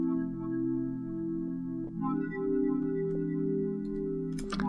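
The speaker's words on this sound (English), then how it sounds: "I added this pad from Expand, which is the F Embellish preset from Soft Pads." A dry synth pad, the F Embellish preset from Soft Pads in Expand, holds sustained warm chords that shift once midway, playing alone without effects before a short noisy burst at the end.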